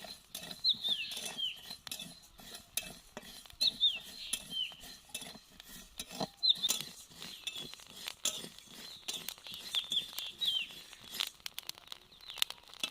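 Rice grains dry-roasting in a pan over a medium flame for chal bhajar naru, with repeated small popping clinks and crackles scattered close by, no talk.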